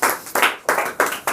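A classroom group claps for a correct quiz answer in a Class 10 Sanskrit lesson, giving four or five close, bright bursts of hand clapping in quick succession, with no talking.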